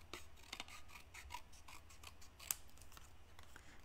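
Scissors snipping paper for scrapbooking, a quick run of close, crisp cuts in an irregular rhythm, quiet and alone.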